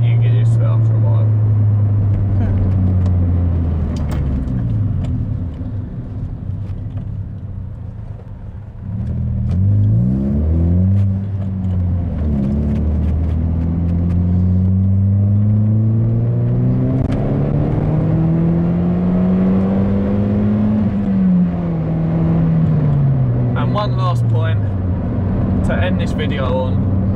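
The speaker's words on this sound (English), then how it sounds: "it's quite droney in the car as well, which is a bit annoying" A Toyota Yaris engine drones inside the cabin while driving, a loud low hum that rises and falls in pitch as the car accelerates and eases off, with a voice talking over it.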